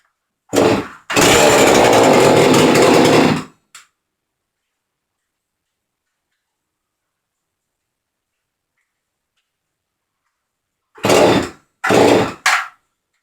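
A Huztl MS440 chainsaw engine catches on a first start, roaring loudly for about two and a half seconds before dying, then firing again in three short, close bursts near the end after a long silence.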